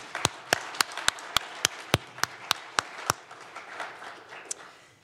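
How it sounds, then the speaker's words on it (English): Sharp, evenly spaced claps ring out at a press event on a Great Lakes Hyperloop feasibility study, about a dozen distinct hits over a few seconds, thinning out toward the end. "County Executive Butish and Chief McCall another round of applause for their support on this feasibility study"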